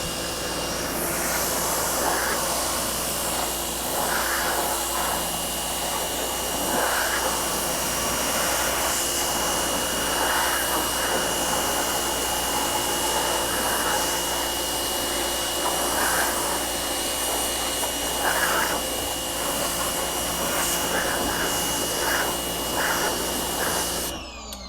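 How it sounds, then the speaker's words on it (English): Power washer blasts water over plasti dipped car wheels, a loud continuous hissing roar that holds steady for the whole stretch, with small surges, no talking, and an abrupt stop at the end. "We're going to go ahead and take the power washer to it."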